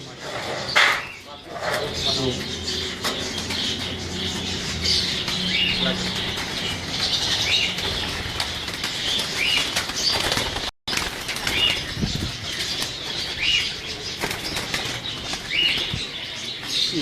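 Flocks of pigeons at a breeder's loft in Kasur flap and flutter in repeated bursts of wingbeats, with occasional squawks and calls, close and fairly loud, while people talk throughout.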